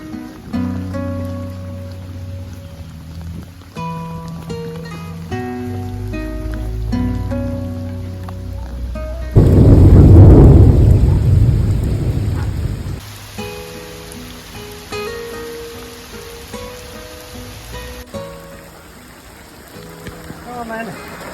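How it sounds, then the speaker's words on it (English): Rain on a narrowboat roof during a storm on the Shropshire Union Canal, a loud burst of heavy drumming rain in the middle, with music playing throughout. "There comes the rain."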